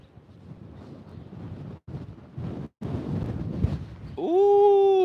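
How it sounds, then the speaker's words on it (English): Strong gusty wind buffets the microphone outdoors by the sea in Zurrieq, Malta, with loud roaring bursts broken by brief drops, ending in a high tonal whine. "Ooh, the wind is going to blow me away."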